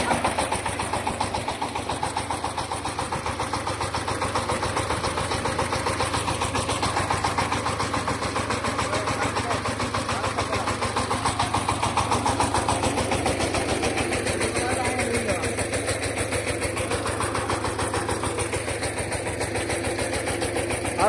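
A steady mechanical engine drone runs throughout with a constant low rumble and throbbing pulse, like a tractor idling nearby, loud and unbroken.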